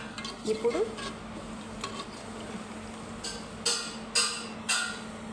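A spoon stirs fish curry with coconut milk in a pan, giving soft scrapes and a few sharper clinks near the end over a low, steady simmer.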